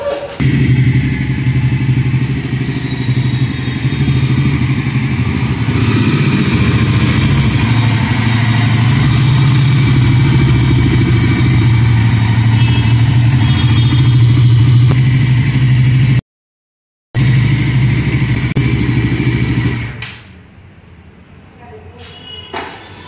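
A Bajaj Pulsar NS400Z motorcycle engine idles steadily with a low, continuous rumble, with voices talking over it; the engine drops away near the end, leaving quieter background.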